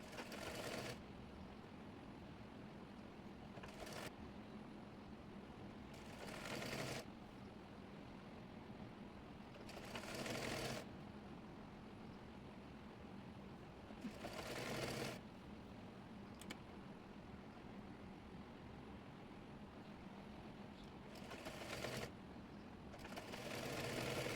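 A sewing machine runs in short bursts while stitching the folded neck of a chemise, each whirring run separated by quieter pauses, heard fairly faint and alone.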